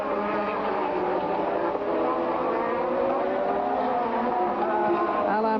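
A 1987 Formula 1 car races at the Portuguese Grand Prix with a sustained high engine whine whose pitch slowly shifts as it holds speed, loud and continuous, with a commentator talking over it at times.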